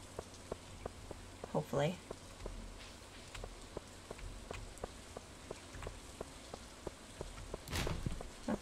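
Steady rain falls in the Stardew Valley video game, a soft, even patter under a regular tick of in-game footsteps, with a short bit of speech and a couple of louder bursts.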